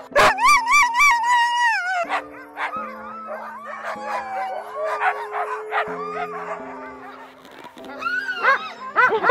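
Several sled dogs bark, yip and whine excitedly close by in Lapland, Sweden, high whimpers and sharp barks overlapping nearly nonstop, with a low steady hum underneath.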